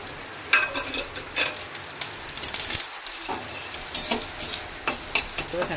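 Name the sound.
onions frying with slit green chili and chopped garlic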